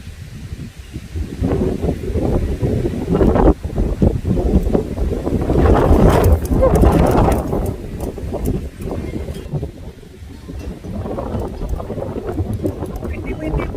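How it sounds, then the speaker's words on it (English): Gusty wind blows through a garden with tomato plants, buffeting the microphone in loud rushing bursts that rise and fall, with leaves rustling. "Windy, windy, windy."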